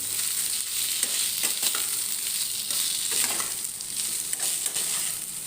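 Soybean chunks fry in a pan while potato curry is being made, giving a steady, close hiss and sizzle with scattered crackles and faint stirring scrapes. The sound is continuous, and nobody speaks.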